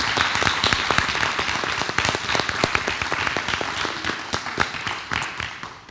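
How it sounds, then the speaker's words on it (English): Applause in a school board meeting room from a modest crowd, many distinct claps audible within the steady patter, fairly close and tapering slightly near the end. "I think that they deserve another round of applause"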